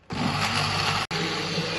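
A mixer grinder blending peach juice whirs loudly and steadily, cutting out for a split second before resuming its continuous high-pitched grinding.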